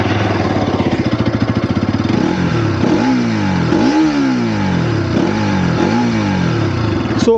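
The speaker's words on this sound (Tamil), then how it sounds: "ஃபைனலாக இதோட எக்ஸாஸ்ட் சவுண்டை மட்டும் பார்க்க போகிறோம்." Exhaust of a 2024 Bajaj Pulsar 200NS motorcycle, loud and close: a fast, pulsing idle burble followed by a series of sharp throttle blips that rise and fall in pitch, about four revs in a row.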